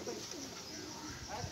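A pigeon, one of several kept pigeons for sale, gives a soft low coo, faint and close, over quiet background noise.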